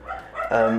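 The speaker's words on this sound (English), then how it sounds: "you will know how she loves to bark" A pet dog barks indoors, a few short close yips and barks that swell louder toward the end, partly mixed with background voice-like sound.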